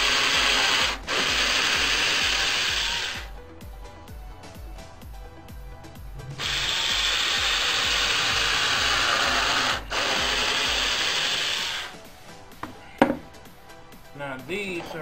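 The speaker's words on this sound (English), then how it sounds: "I'm going to pre-drill 2 holes" A power drill pre-drills holes in wood for a bed frame with two sustained whirring bursts, each a few seconds long, then short stop-start pulses and a knock as the bit is pulled out.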